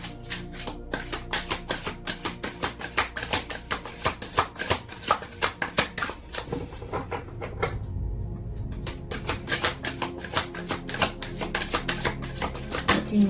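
Oracle cards being shuffled by hand, a long run of quick crisp riffling flicks and soft slaps, close and fairly quiet, with a brief pause partway through.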